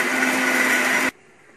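A kitchen mixer coarsely grinding fried tempering spices for a raw cucumber chutney whirs loudly and steadily up close for about a second, then cuts off abruptly into near silence.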